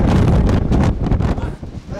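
Strong wind buffets an outdoor microphone at a horse showing, a loud, continuous, rumbling roar that swells and dips, with voices faintly beneath it.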